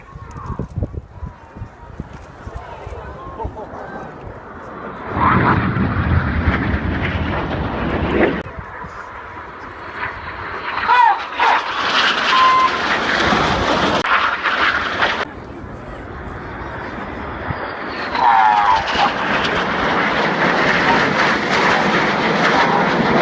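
A jet roars past low and loud during a display at the 2014 Farnborough International Air Show, its engine noise swelling and fading in several surges across the sky.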